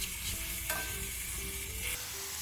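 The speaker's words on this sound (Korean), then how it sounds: "지금 이 고주파 소리가 들려야 돼. 그래야 고기가 익기 시작하고" Meat sizzling in a hot pan, a steady, close, high-pitched crackling hiss that continues evenly throughout with no speech.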